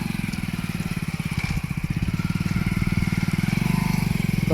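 A motorcycle rides up a dark ghat road through forest at night, its engine a loud, close, rapidly pulsing putter that holds steady throughout, with no talk.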